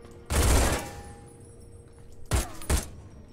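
Bursts of automatic gunfire in the Fallout: The Frontier mod, one long loud volley followed by two shorter sharp bursts after a pause, with no talk.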